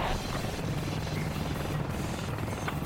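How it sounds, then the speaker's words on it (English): Enemy helicopter in the video game Ace Combat: Assault Horizon, a dense continuous rotor drone and rumble filling the whole stretch at steady loudness, with no speech over it. "Bravo 4, enemy chopper sighted."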